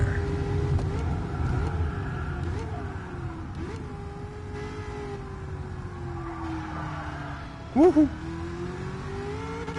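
Race car engine in the GT Sport video game revving up toward its rev limiter near 7,000 rpm, a steady whining drone with shifting pitch and a brief sharp burst late on, under a short excited shout.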